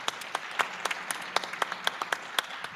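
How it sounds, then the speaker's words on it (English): A conference audience gives a round of applause. The sound is moderate and fairly distant, with distinct sharp claps standing out above a softer, steady patter throughout. "give him one round of applause"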